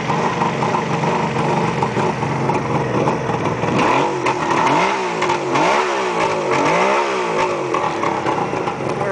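A 1972 Suzuki GT750 J water-cooled three-cylinder two-stroke motorcycle idles with a buzzy burble, then blips the throttle in several rising and falling revs before settling, close by.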